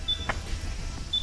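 Yamaha X-Max 250 scooter gives two short high chirps about a second apart, its alarm sounding after the seat is opened and the rider walks off, faint over steady outdoor rumble.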